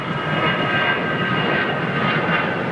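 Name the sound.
Air India Dreamliner jet at Heathrow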